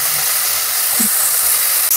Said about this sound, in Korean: 센 불에 볶아주세요, 센 불에